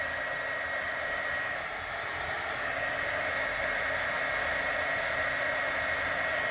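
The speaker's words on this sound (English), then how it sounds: "taking the heat gun, and we're just going to melt that powder" A heat gun runs steadily and close, a constant airy blowing hiss with a faint tonal hum, used to melt powder without pause.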